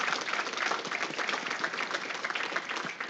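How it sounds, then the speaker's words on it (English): A conference audience claps in a steady round of applause after the morning speakers, a dense continuous patter of many hands at moderate distance. "If we give a quick round of applause for everyone this morning."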